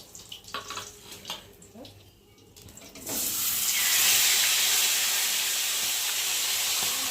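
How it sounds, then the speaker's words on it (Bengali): A fish head goes into hot oil: a few quiet clatters, then a loud, steady broadband sizzle that bursts in partway through and holds to the end. "আর একটা মাথা রয়েছে মাথাটা একটু ভাজবো"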